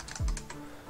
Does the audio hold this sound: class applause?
no